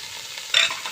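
Crushed ginger and garlic with onion hit a hot frying pan, and a sudden loud sizzle bursts out partway through, then settles into a steady hiss.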